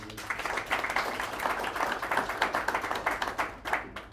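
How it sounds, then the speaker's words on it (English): Audience claps at a platform launch event, a steady crowd of hands in a room, even and moderately loud for about four seconds with no talking over it. "Maybe one more round of applause for Naeem."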